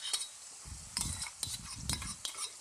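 Churned curd is stirred into a pan of Kathiyawadi dahi tikhari with the gas off, giving soft rhythmic scraping and wet mixing strokes with light utensil clinks, quiet and close, no talking.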